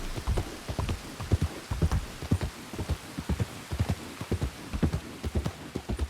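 A horse gallops in a video game, its hoofbeats thudding in a steady, rapid clip-clop rhythm close up and fairly loud throughout, with no talk over it.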